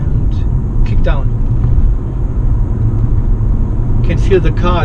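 Plug-in hybrid car accelerating hard at kick-down on its electric motors, giving a steady low road and drive rumble throughout, with a person talking over it.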